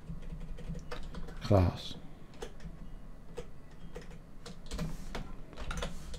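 Keys click in quick, uneven bursts on a computer keyboard, close by. Someone speaks briefly over the typing.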